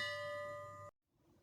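A notification bell sound effect gives one bright, ringing ding with sustained metallic overtones, then cuts off abruptly into near silence.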